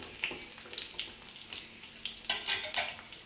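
Chicken pieces fry in oil with a faint, continuous bright sizzle and a few soft stirring clicks, heard alone without voices.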